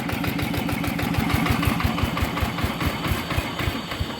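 A motorcycle engine rebuilt to 150cc after being submerged in water idles with a steady, rapid low thumping, close and continuous, no voices.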